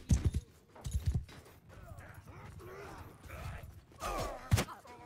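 Horse hooves in the medieval battle game Bannerlord thud in a few quick clip-clop beats amid combat noise and a low groan, moderately faint.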